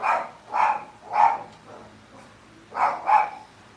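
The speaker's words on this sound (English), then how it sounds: "my dog's barking out there" A dog barks outside in two clusters, three evenly spaced barks then a pause and two more quick ones, muffled and moderately distant, with no talking over it.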